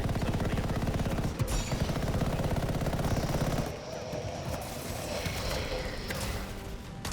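Dense, continuous gunfire from the video game Anthem during a Colossus demo fight, a steady loud barrage of shots that thins slightly partway through, with a voice talking faintly beneath.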